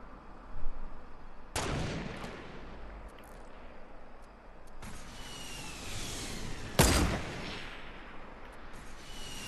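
Sniper rifle shots in the Fortnite video game, a few loud, sharp cracks spaced several seconds apart, each with a long ringing tail, over steady low rumble and no talk.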